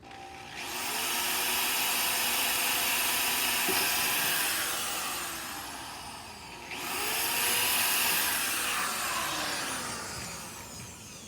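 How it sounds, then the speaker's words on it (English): A power drill whirs and grinds through material in two long stretches, loud and close, with a brief easing in between, drilling a hole while installing LED wheel lights on a car or truck. "and drill one more hole."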